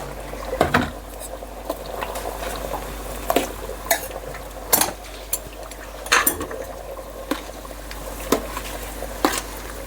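Split mustard seeds fry in oil on low heat for a sour pickle, a soft steady sizzle broken by sharp, irregular clinks and scrapes of a metal spoon stirring in the pan, close up, with no talking.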